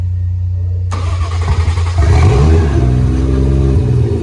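A Toyota Aristo with a 1JZ-GTE engine cranks briefly, then fires and catches into a loud, steady idle with a slight rev, heard up close.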